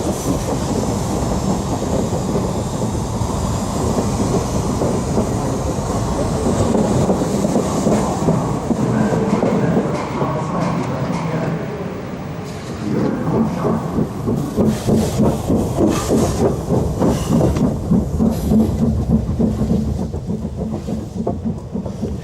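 A train rumbles steadily past with rhythmic clickety-clack of wheels on rail joints, loud and continuous throughout, with no talking.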